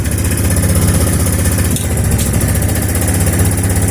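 A Suzuki Intruder 1500LC motorcycle engine, freshly restarted without choke after carburetor diaphragm work, runs at a steady, loud idle with an even, throbbing pulse and no break.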